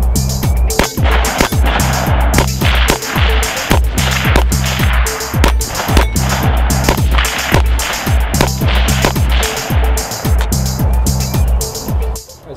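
AR-15 rifle fired in rapid transition drills, a loud, close string of sharp evenly spaced shots continuing for several seconds.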